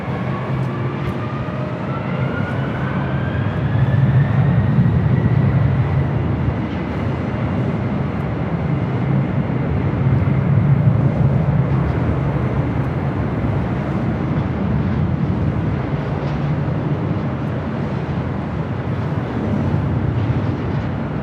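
A Delta Boeing 767 at LAX roars steadily as a loud, sustained jet-engine rumble with a rising whine, heard from a distance at a busy airport with no one talking.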